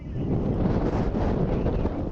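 Strong wind gusts roar against the microphone during Southern California wildfires, a loud, dense buffeting rush that lasts the whole brief moment.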